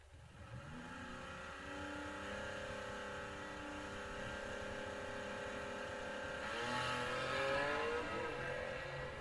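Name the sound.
drag race cars, six-cylinder Firebird versus Pinto, accelerating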